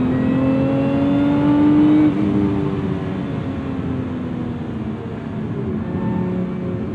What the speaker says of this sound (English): I love that the supercharged nature has this unique whine